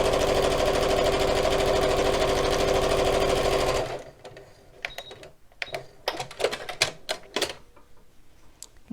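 A sewing machine runs a straight stitch along fabric creases, a fast steady mechanical whir for about four seconds, then stops, followed by quieter clicks and handling noises.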